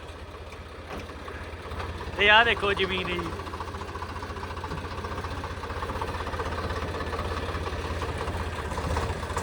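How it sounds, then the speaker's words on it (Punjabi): A tractor with failed brakes runs with a steady, low engine throb that carries through the whole stretch. Someone talks over it. "ਇਹ ਇਸ ਟਰੈਕਟਰ ਦੀਆਂ ਬ੍ਰੇਕਾਂ ਫੇਲ ਨੇ ਜੀ ਇਹ ਰੁਕਦਾ ਔਖਾ ਹੀ ਹੈ ਜੀ"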